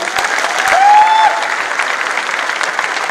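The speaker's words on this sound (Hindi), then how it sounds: "जोरदार तालियां होनी चाहिए इनके लिए" Audience claps for an event manager at a company gathering, a steady dense patter of clapping with a brief whistle-like tone partway through.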